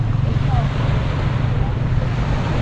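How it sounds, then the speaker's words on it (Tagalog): Sea waves roll in at the Manila Baywalk under strong wind rumbling across the microphone, a continuous loud wash of surf and gusts. "Ganda ng alon."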